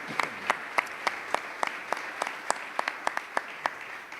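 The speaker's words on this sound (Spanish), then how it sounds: "yo me atrevería a pedir hoy en la lejanía otro aplauso para él" Audience applause at a talk recalling the coronation of the Virgen de Regla in Chipiona, with a steady wash of clapping and sharp individual claps standing out throughout.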